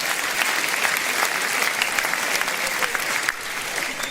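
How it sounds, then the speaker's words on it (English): Rally audience at a Reform UK event in Norfolk applauding, a dense steady clapping crowd filling the room for a few seconds, dropping slightly near the end. "Give yourselves a round of applause."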